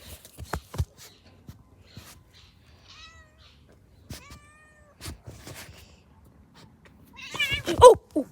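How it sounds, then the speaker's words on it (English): A pet cat gives a few short meows indoors, faint and spaced out, with a louder, more agitated cry near the end, and quiet rustling and handling noise between them. "This is my cat, Mimis."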